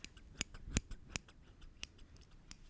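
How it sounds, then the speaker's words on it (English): Small sewing scissors snipping a thread knot, a handful of sharp, crisp clicks at uneven intervals, very close and quiet against a hushed background. "I'm gonna take my little scissors"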